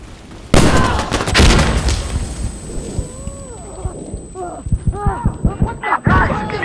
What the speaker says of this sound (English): Stop shooting me, you idiot!